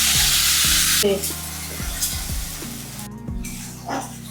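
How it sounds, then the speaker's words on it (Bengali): Ginger-garlic paste hits hot oil with a loud, steady hiss that fills the whole clip, broken by a few clanks and scrapes of a utensil against the pan. "আমি এবারে আগে আদা রসুন বাটা এটা দিচ্ছি।"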